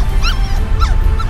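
A street dog in a radio drama whimpering and whining, two or three high rising-and-falling whines over a steady low rumble, close and fairly loud.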